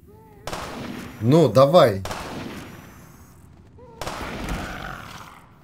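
Gunfire in Half-Life 2, heavy booming shots with a reverberant tail, followed a few seconds later by another blast, while someone speaks briefly.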